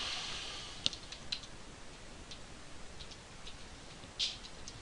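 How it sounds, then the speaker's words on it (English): Keys tapped on a computer keyboard, a short sparse run of light clicks with a couple of sharper strikes, quiet and close with no talking. "then we're going to type in PowerShell"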